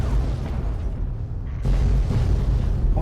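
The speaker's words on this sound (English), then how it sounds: "Where was that explosion?" Cars blowing up in Fallout 3, a deep booming blast rumbling on and then a second louder burst hitting partway through, with no talk.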